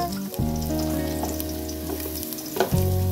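Ginger hisses and sizzles as it drops into hot oil in a frying pan while an eggplant adobo is being cooked, a close, steady crackle with a few stirring clinks and a low background hum.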